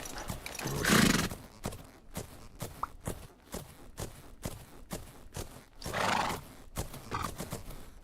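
A horse canters in a video game, with rhythmic hoof clip-clops, a couple of neighs or whinnies rising above them, and loud bursts in between, all without talk.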